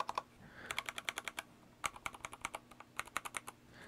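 Mechanical keyboard keys on a KeebMonkey keyboard clack in quick bursts of typing, crisp and close, with brief pauses between runs.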